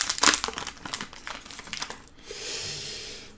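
Pokémon booster pack wrapper being torn open, a run of close, crackly crinkling and ripping bursts followed by a softer, sustained rustle near the end.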